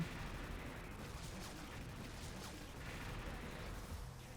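An automatic turret in the online shooter XSHOT fires nonstop, a dense, even rattle of rapid shots with faint booms, steady and fairly quiet throughout, with no talk.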